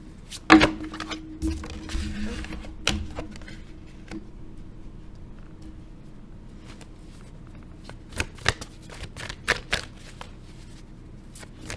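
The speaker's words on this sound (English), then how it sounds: "Got cards going all over the place." Tarot cards are shuffled close by in a long riffling, rustling burst, followed by scattered sharp card snaps and taps.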